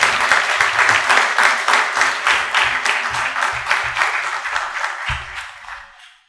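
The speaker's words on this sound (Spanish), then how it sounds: "damos un gran aplauso a don Jaime por su gran exposición" Audience at a school humanities and science seminar applauds a presenter after his talk, a steady burst of many hands clapping that carries on for several seconds before fading out.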